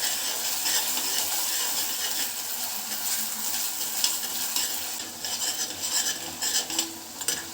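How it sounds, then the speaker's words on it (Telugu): Chopped green chillies and thinly sliced ingredients stir-frying in a hot pan, a steady dense sizzle with intermittent scraping and clinks of a spatula against metal, close and continuous with no talking. "ఇప్పుడు ఇదంతా పచ్చివాసన పోయేంత వరకు బాగా వేయించుకోవాలి, ఫ్రై చేసుకోవాలండి"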